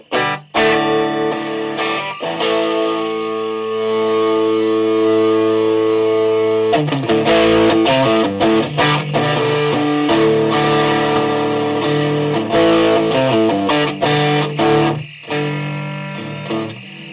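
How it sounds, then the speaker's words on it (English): An electric guitar on the bridge pickup plays through an Orange Fur Coat octave fuzz pedal, thick buzzing chords ringing out loud with short pauses and restarts between phrases. "let's see what it does when I turn on the distortion side."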